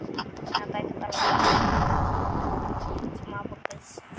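A bomb going off in a game, a broad roaring blast that swells and rumbles for a couple of seconds before fading, with a sharp crack near the end and lighter game sounds around it.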